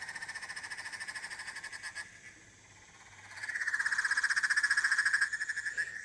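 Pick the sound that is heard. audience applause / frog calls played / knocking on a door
frog calls played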